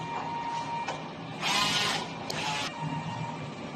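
A DTF printer running a nozzle test produces soft mechanical whirring with a couple of brighter, louder carriage sweeps in the middle, close by and without speech.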